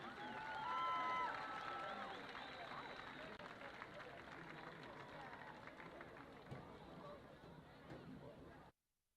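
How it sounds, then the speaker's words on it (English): Crowd applause and cheering fill an outdoor high school football stadium on game night, a steady wash of clapping and murmur that holds for several seconds, then cuts off abruptly. "One more round of applause for the players,"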